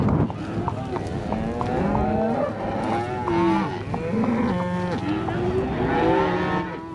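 A herd of cattle on a drive toward the base of a mountain moos continuously, many overlapping low calls near and far over a constant outdoor rumble.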